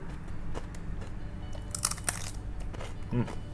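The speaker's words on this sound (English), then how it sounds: "That's very crunchy." Crisp crunching from biting into tempura-fried fish, a few crackly bites close to the mic, with chewing noises and a quiet voice in the background.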